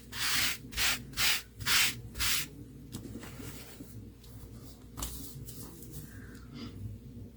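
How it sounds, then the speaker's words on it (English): A cutting die and card sandwich rubbed firmly by hand for split-texture die cutting, five quick loud rasping strokes followed by quieter scattered rubbing, close up with no talk. "Let's give it a really good rub."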